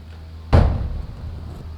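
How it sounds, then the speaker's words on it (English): A single solid thud of a door shutting nearby, a quick low bang that fades into a short room echo against faint background hiss. "I'm going to close the door."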